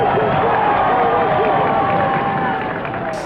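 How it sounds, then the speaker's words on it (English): An archival crowd cheers after a speech by President Kennedy. A dense, steady roar of voices and applause sustains at full loudness, then eases slightly toward the end. "President Kennedy stepped back from the podium as the crowd cheered."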